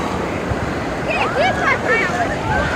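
Sea waves at Digha beach give a loud, steady roar of surf with wind, while distant voices and shouts rise above it.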